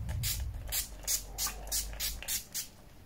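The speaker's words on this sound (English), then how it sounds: "Now I'm just going to go for a quick spritz of setting spray" Several short, close hissing spritzes of setting spray from a spray bottle come in a loose rhythm, each a quick soft burst with quiet pauses between.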